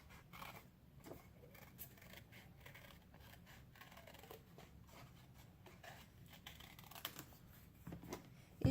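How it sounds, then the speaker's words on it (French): Scissors cut out a paper card shape, with a quiet run of small, close snips and rustles at a soft, uneven pace. "Je vais tout simplement la découper au ciseau."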